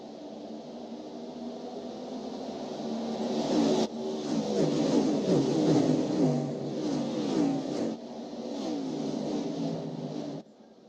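Several NASCAR-style racing engines at Darlington in a racing video game whine and accelerate together, pitches climbing and overlapping at steady volume, with a sharp cut around the middle.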